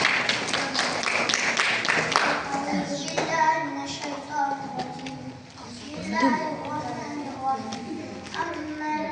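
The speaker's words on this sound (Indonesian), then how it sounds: "Beri tepuk tangan yang meriah." Children in an audience at an Islamic school event clap briefly after a boy's Quran recitation, a short burst of claps that gives way to kids' voices and chatter.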